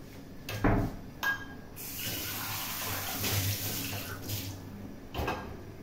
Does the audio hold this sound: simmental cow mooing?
no